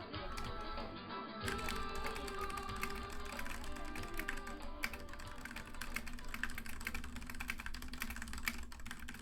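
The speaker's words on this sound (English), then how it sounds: "Go back to typing for a second" Quick, steady clacking of keys on a computer keyboard, close and fairly faint, continuing throughout with no talk.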